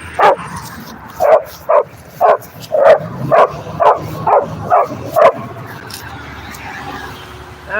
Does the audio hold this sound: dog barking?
yes